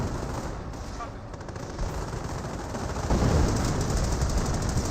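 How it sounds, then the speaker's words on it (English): An M10 tank destroyer fires shots in the Company of Heroes video game amid dense, continuous battlefield noise, with rapid bursts of gunfire that grow louder toward the end. "M10 firing some shots there, but rolling some misses."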